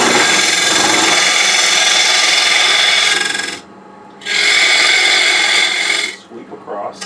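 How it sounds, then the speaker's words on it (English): A square scraper hollows out a turned wood box on a lathe, giving a loud steady rasping scrape that breaks off briefly twice, heard up close with no talk. "I think I'm going to resort to a square scraper"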